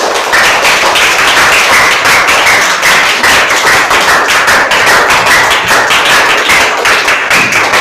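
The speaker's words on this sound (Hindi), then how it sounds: "अगर आपको अच्छा लगा हो तो आप अपने लिए ताली बजाएं।" A classroom audience of students applauds steadily, a dense, loud and continuous patter of many hands clapping that holds at the same level throughout.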